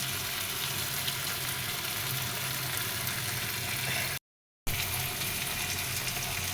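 Tomatoes go into a pan of frying fish curry, giving a steady, close, loud sizzle that fills the whole stretch, broken by one brief gap of silence, with no talking.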